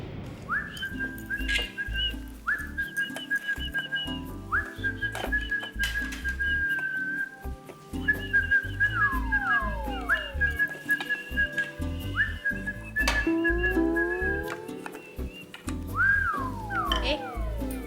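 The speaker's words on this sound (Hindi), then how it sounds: "देख रहा हूँ तू सीटी बजाते हो, बड़ी अच्छी लग रही है।" Person whistling a tune in clear, repeated melodic phrases with sliding notes, close and fairly loud, with soft background thumps and no talking.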